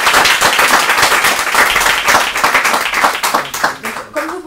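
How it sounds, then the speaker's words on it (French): An audience at an Upheros event in Clermont-Ferrand breaks into loud, sustained clapping close by, the applause thinning out and fading toward the end. "On peut applaudir ce premier."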